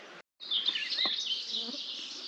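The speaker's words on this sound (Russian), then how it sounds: "Нереальное количество мошек, нереальное количество комаров." A dense swarm of midges and mosquitoes buzzes steadily and close around a hot summer campsite, a continuous high whine that rises after a brief gap and holds throughout.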